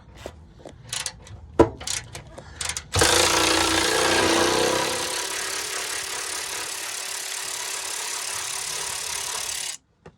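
Bolts being loosened on the tow hitch bumper bracket of a Chevy Express van, a few sharp metallic clicks and clanks, then a long loud whirring burst from a power impact tool lasting about seven seconds, close up.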